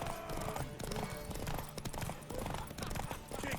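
Horse hooves clip-clop at a quick gallop during a horse race in the video game The Witcher 3: Wild Hunt, with rapid rhythmic beats mixed into busy game ambience.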